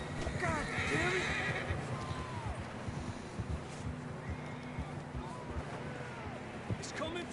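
In the Red Dead Redemption 2 video game, horses neigh and whinny loudly over continuous clip-clopping hooves on rough ground, with a dense outdoor background and voices mixed in.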